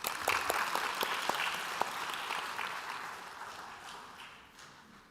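An audience applauds at an international conference, a burst of clapping with distinct sharp claps at the start that thins and fades over about five seconds, moderately distant.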